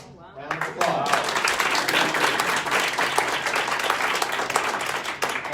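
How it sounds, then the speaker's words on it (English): A company sales and marketing meeting audience applauds a ten-year anniversary, loud, close, dense clapping that starts abruptly after a short spoken word and carries on steadily to the end. "Round of applause."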